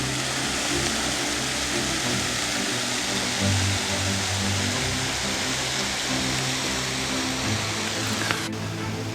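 A waterfall on the Aubrac plateau in the morning roars as a steady, dense wash of broadband noise, unbroken and fairly close, with no voices over it.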